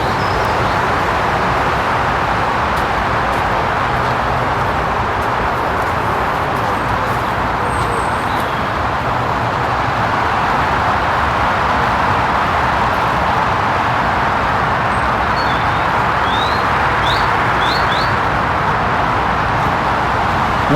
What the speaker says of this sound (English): Lots of birds, if you can hear them under the noise of the traffic.